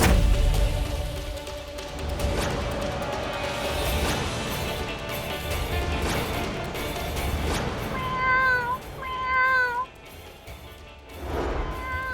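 A cat meows indoors in several drawn-out, fairly loud cries near the end, following a stretch of clattering and room noise.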